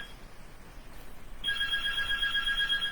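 A telephone starts ringing partway through, a steady repeating electronic tone that cuts in loudly over a quiet room and continues to the end.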